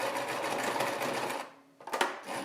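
Sewing machine running steadily as it seams over elastic in the legs of a baby romper, a continuous close whir that stops abruptly, followed by a few clicks and light handling noises.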